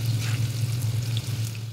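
Bitter gourd pieces fry in hot oil, a soft, steady sizzle with a low bubbling hum, close and continuous for a brief moment.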